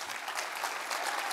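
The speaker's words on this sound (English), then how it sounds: "all right, we're going to clap a lot today." Dense, steady audience applause during a church service, with many hands clapping at once in a continuous, fairly loud roar and no talk over it.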